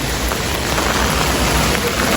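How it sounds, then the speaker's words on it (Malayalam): Steady rain falls in Germany, a dense even hiss of drops on surfaces that holds constant and fairly loud throughout, with no voices. "ഇതാ മഴ പെയ്യുമ്പോൾ മഴ ഭൂമിയുടെ അടിയിൽ നിന്ന് പൊന്തുകയാണ്."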